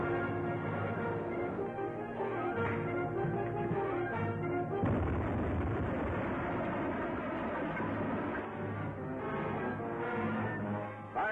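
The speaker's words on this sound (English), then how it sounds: "Torpedo one fired, sir." A torpedo is fired: a steady, droning mechanical rumble suddenly swells into a louder rushing surge midway, then continues at a dense, sustained roar.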